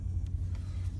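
2013 Ram 1500 Big Horn pickup truck engine running just after start-up, a close, steady low rumble with brief faint ticks above it.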